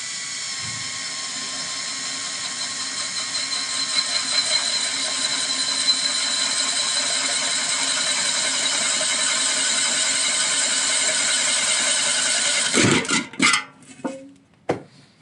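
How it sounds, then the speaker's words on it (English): A power drill with a 3/8 inch brad point bit bores slowly through the center of a canister, a steady high whine running for about twelve seconds before stopping, followed by a few short clunks and handling knocks. "going slow with this brad point drill bit here"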